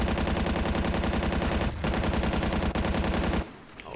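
Rapid, steady gunfire from a video game sidearm rattles in dense repeated shots, loud and continuous with two brief breaks, then cuts off near the end.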